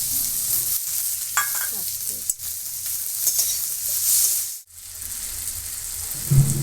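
Chopped tomato with green chilli and ginger paste fries in a pan with a continuous bright hiss of sizzling oil. A few soft stirring scrapes break in, and one brief dip halfway through. The sound is close and there is no voice.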